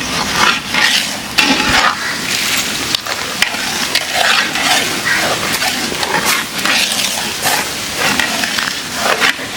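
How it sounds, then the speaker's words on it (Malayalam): Jackfruit stirred in a large pot on a stove with a big spatula, making loud, close, repeated scraping and churning sounds over a faint sizzle, with no talking. "അങ്ങനെ നമ്മുടെ ചക്ക അടുപ്പത്ത് കയറിയിട്ടോ ഇനിയിപ്പോൾ ഒന്നും നോക്കാനില്ല അങ്ങ് ഇളക്കിക്കോളാം"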